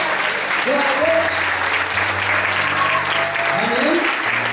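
A church congregation applauds together in steady, dense clapping that fills the space, with voices and cheers mixed through the crowd noise.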